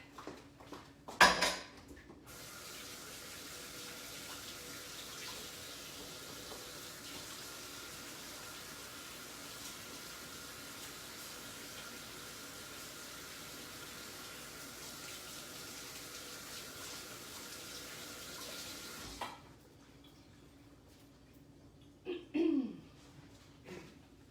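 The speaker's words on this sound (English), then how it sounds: "I am going to wash my hands, and I will be right back." A kitchen tap runs steadily for hand washing, a soft continuous stream of water framed by brief clatters at the start and end.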